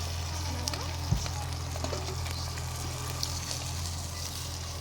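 Bata fish frying in oil, a continuous soft crackle and sizzle with scattered pops, steady and moderately close, over a low steady hum.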